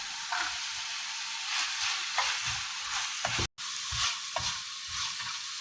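Diced carrots fry with browned beef in a pan, giving a steady broadband sizzle broken by spoon stirring and scraping. There is a brief silent cut midway, and the sound stays close and fairly quiet.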